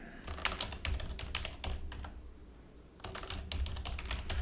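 A password is typed on a computer keyboard in bursts of quick, close key clicks, a brief pause near the middle, then another run of rapid keystrokes.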